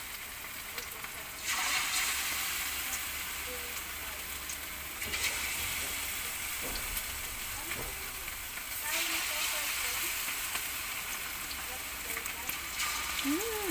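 Chicken buffalo wings being double fried in hot oil, a steady close sizzle and crackle with surges as pieces move, with faint background sounds.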